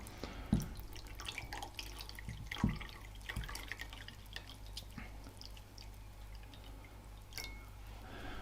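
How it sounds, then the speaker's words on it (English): Water goes into a bowl as a few separate drips and small splashes, quiet and close, with faint background noise and no voices. "If I put the water in a bowl"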